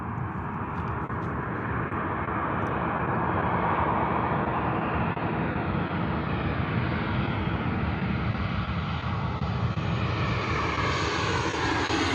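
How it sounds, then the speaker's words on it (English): A Ryanair jet airliner arriving at Bristol Airport with its engines at full power gives a loud, steady roar that builds and holds throughout, heard close by with a rising whine and no talk. "Ryanair coming in full power"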